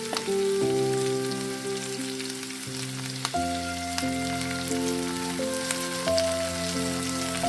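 Cabbage stir-fried in a pan for a Korean home-cooking dish, a steady sizzle and occasional stirring running under continuous melodic background music.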